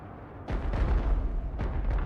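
Gunfire from aircraft strafing an airfield in a video game, a run of loud, heavy bursts and booms with a short lull before another volley near the end.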